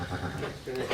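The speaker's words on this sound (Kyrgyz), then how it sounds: "Мынаки 3 күндүк козу" A three-day-old lamb bleats close by on a farm in Talas region, a short wavering cry that sits among other sheep sounds and a person talking.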